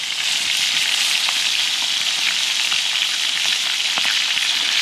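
Trout sizzling and frying in hot oil, a dense, steady crackle with occasional louder pops, close up and without voices.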